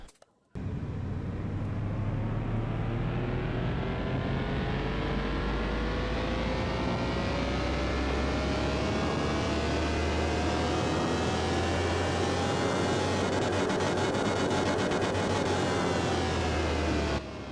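A BMW E30 engine runs on a dyno, loud and continuous, its pitch climbing steadily as it revs up over roughly seventeen seconds with no talking.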